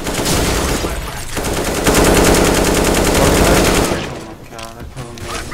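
Loud, sustained automatic gunfire in Counter-Strike: Global Offensive on the Cache map, a dense rapid burst lasting about four seconds before easing into scattered shots.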